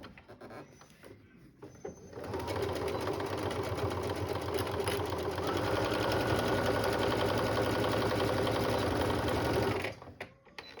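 A sewing machine runs steadily for about eight seconds while stitching the corners of a grocery tote bag, a loud, fast, even mechanical whir starting and stopping abruptly, with faint handling sounds before and after.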